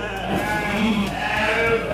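Dorper sheep bleating on a farm, a couple of close, loud wavering bleats over about two seconds amid livestock background noise, with some voices faintly present.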